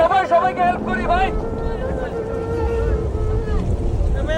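A boat crosses floodwater in a flood-hit area, heard as a steady rushing wash with wind buffeting the microphone. Voices call out at the start.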